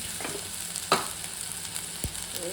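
Tomatoes sautéing in a pan with a low steady sizzle, broken by a couple of brief utensil knocks, close and quiet.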